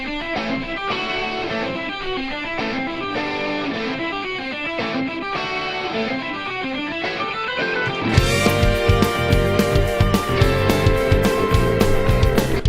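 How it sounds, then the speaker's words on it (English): Distorted electric guitar riffs over sustained Hammond organ chords, the texture thickening into a louder, fuller band section partway through. "So the guitar with the Hammond organ sounds like this."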